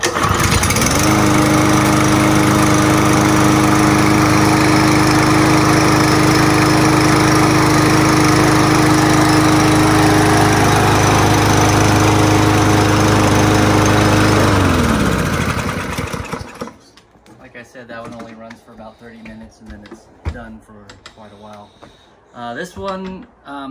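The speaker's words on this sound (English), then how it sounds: "that one's electric start, and I haven't started it yet, so that'll be its first start" A Yard Force walk-behind lawn mower with electric start runs at a steady, loud, close roar for about fifteen seconds, then cuts out, leaving quieter talking and handling sounds.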